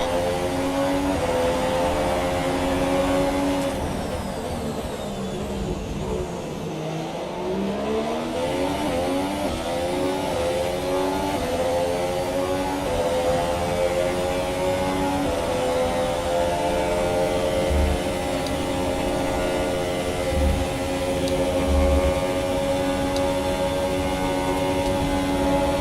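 A race car engine in a racing game drones continuously at high revs, its pitch rising and falling through gear changes, loud and steady for the whole stretch with no talk over it.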